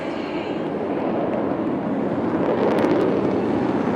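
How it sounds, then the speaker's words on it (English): A military aircraft in an aerial display over Marina Beach, Chennai, pulling up to stand on its tail, heard as a continuous broad jet roar, fairly distant and steady, with some wind buffeting the microphone. "And here he pulls up, making the aircraft stand on its tail."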